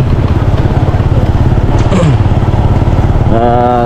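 A motorcycle engine rumbles steadily up close with a continuous low, pulsing drone, and a rising tonal whine joins near the end.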